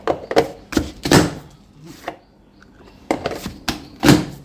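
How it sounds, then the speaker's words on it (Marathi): Knife chopping potatoes on a board for pav bhaji, with loud close thuds in irregular bursts and a short pause in the middle. "बटाटा पण आता चिरून घेतलेला आहे."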